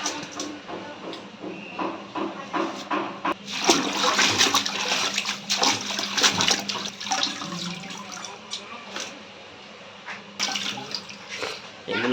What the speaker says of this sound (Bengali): দেখুন একবার ধোয়ার পরও পানি এখনো পরিষ্কার